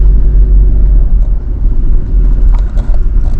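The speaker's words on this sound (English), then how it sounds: "I'm mountain driving again" A car driving a winding Appalachian mountain road along the Ohio River, heard from inside as a loud, continuous low engine and tyre rumble with slight surges, no talk.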